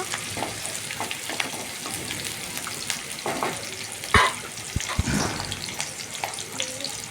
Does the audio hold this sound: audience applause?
no